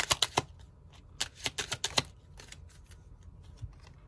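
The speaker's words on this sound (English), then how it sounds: "we're going to pull some romance oracle cards and see what Spirit has to tell you" Romance oracle cards are shuffled and pulled, making a quick run of crisp snapping taps, then a few sparser, fainter flicks with no talking.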